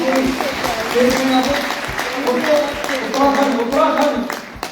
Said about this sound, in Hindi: सभी के लिए जोरदार तालियां